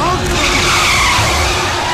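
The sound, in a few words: bus tires skidding as it is driven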